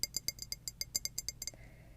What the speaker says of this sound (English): Yeah, glass jar.